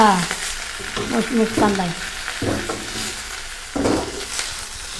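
Thuthuvalai and musumusukkai leaves sautéing in a pan for a home-remedy rasam, with moderate sizzling and stirring scrapes heard beneath a person's talk.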